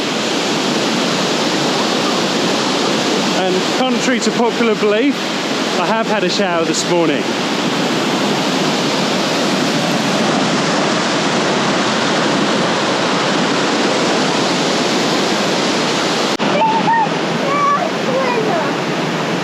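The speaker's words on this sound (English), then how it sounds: "Have a look at the waterfall." Waterfall spray in the Otways roars steadily and loudly, a dense rushing wash that continues throughout while people talk over it.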